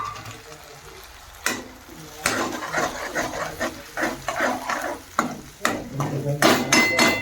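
Tomato puree going into sautéed golden-brown onions in a pan while cooking misal, with stirring scrapes, light frying sizzle and utensil clatter, louder bursts toward the end.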